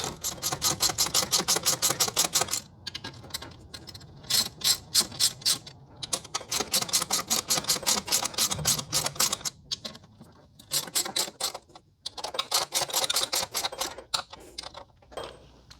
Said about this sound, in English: You're going to use the same 14mm socket. You're going to go back and forth between the two bolts.